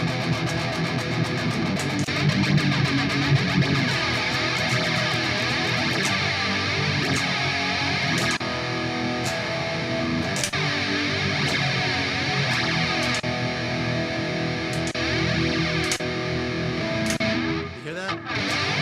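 Distorted electric guitar run through a Hotone Ampero Mini multi-effects unit with no amp, a dense saturated wall of chords sustaining loudly and steadily, cutting off briefly near the end.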